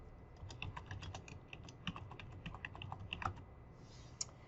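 Keystrokes on a computer keyboard while a heading is typed into a Microsoft Word document, a quick irregular run of light clicks close to the mic over quiet room hiss, with no talking.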